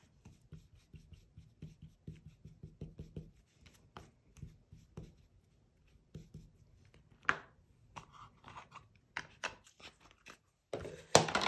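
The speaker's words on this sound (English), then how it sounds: "Just wanna add a little bit of color to this paper." A brush dabs and scrapes color onto paper in a mixed media craft project, giving quiet, dry, scratchy strokes in uneven bursts, with a louder rustle near the end.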